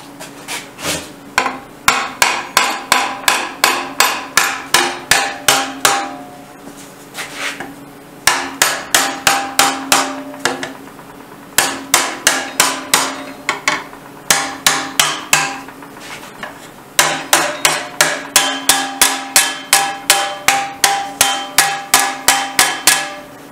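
Rapid hammer blows on metal being bent over a beveled wooden edge clamped to a table, coming in close, loud bursts of quick evenly spaced strikes separated by short pauses.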